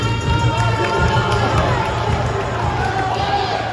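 Wrestling crowd at a CIW Ringside show reacting to a wrestler's arrival, a loud, steady roar of many voices and cheers sustained throughout with a low hum underneath.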